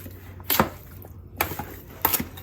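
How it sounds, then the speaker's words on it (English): Seasoned chicken is stirred in a bowl, making three distinct wet, scraping swishes spaced about a second apart against a quiet background, with no talking. "I'm gonna stir."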